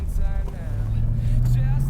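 An old Mercedes engine revs up and builds steadily in a 0 to 60 acceleration test, the low drone rising and thickening over two seconds while someone talks over it.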